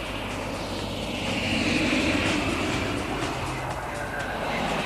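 An aircraft flies past at the Farnborough air show in England in July 2000, its engines producing a loud, sustained roar that swells slightly midway before easing off, with no voices heard.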